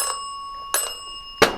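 A bicycle-style bell, said to have a fault, rings three times in short bright dings with tinny overtones, spaced evenly about 0.7 seconds apart, fairly close with a quiet room behind.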